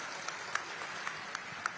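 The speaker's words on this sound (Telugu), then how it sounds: "అందరూ కూడా గట్టిగా చప్పట్లు కొట్టి ఆశీర్వదించండి" An audience at a police constable recruitment success-stories event claps steadily in a dense, continuous wash of applause, with a few sharper individual claps standing out over the crowd's sustained clapping.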